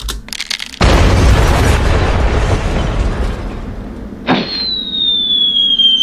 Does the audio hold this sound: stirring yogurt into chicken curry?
no